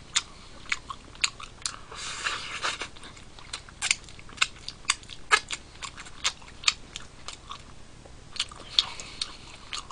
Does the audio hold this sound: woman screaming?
no